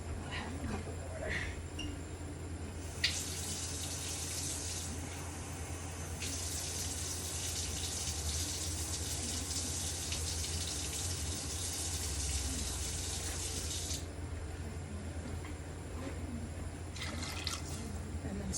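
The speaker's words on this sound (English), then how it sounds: "I am going to add a half a cup of water." Water running steadily from a tap into a container, a broad continuous hiss with brief pauses and restarts, close and moderately loud over faint room noise while cooking.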